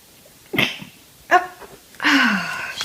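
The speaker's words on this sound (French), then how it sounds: "J'éternue." A single person sneezes sharply and close up, with a short sniff or breath before it and a drawn-out exhale afterward, and no speech in between.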